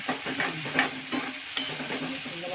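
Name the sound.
vegetable being roasted and stirred in a pan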